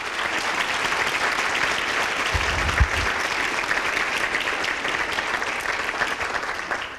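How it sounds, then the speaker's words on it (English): Loud, sustained applause fills a room at a teacher of the year celebration dinner, a dense and even roar of clapping for the honoured teachers that runs for several seconds before tapering slightly. "Please give them a hearty round of applause"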